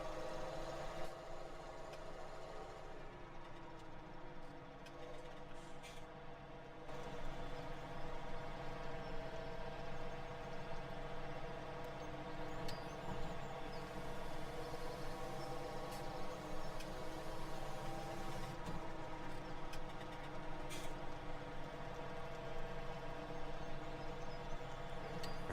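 Tractor engine in Farming Simulator 17 running steadily, a constant low droning hum that shifts slightly in pitch partway through, with no speech over it.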